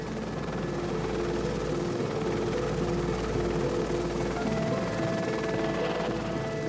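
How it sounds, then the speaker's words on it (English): Steady, heavy rotor thrum and engine roar of a helicopter overhead in Kenyan wildlife country, constant and loud for the whole stretch. "Spooked by the noise of the helicopter"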